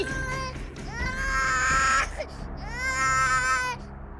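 Infant wailing in two long rising cries separated by a brief catch of breath, loud and close in a domestic scene.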